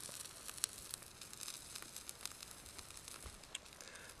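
An egg cooking over a coconut shell fire on a firebox stove, a faint, soft sizzle and bubbling with scattered small pops and crackles, quiet and close.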